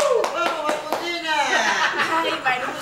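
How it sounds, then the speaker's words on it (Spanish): Audience at a Saturday variety show breaks into applause and scattered clapping, mixed with loud excited talk and cheering from a host over the crowd. "Fuertes aplausos para Facundina"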